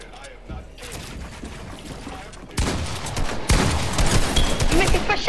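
Shotgun blasts in a video game, several loud broadband bursts over background game noise, growing denser and louder in the second half, with a voice talking at times.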